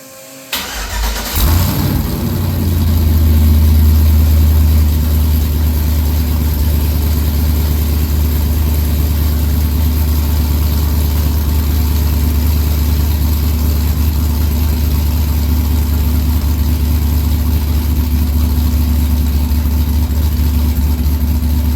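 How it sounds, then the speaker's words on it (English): An LS-swapped Chevrolet C10 truck engine with open headers cranks and fires up, then settles into a loud, deep, rumbling idle close by, steady and unbroken for the rest of the clip. "you ain't got exhaust, you got to hear it open headers"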